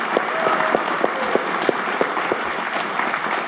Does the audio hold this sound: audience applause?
yes